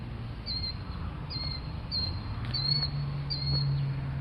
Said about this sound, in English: I don't know if you can hear that little Tweety bird, but I think that is a sandpiper